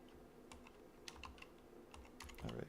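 Typing on a computer keyboard while making a community banner, a steady stream of light, close clicks and key taps with a slightly heavier clatter near the end, no talking.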